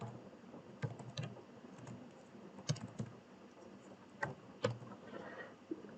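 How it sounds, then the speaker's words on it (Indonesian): Typing on a computer keyboard while entering code, with scattered key clicks and a few sharper taps at an uneven pace over quiet room noise. "jangan sampai salah ketik, harus teliti"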